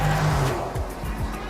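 A Dodge Challenger drifts through dust in a film chase scene, its engine roaring loud and close with a wavering, rising growl and faint tire noise.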